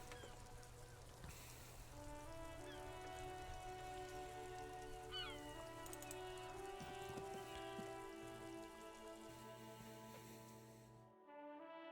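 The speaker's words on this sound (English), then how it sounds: "I guess it's raining." Steady rain falls in a video game as a soft, continuous patter beneath sustained musical tones, ending abruptly near the close, with no talking.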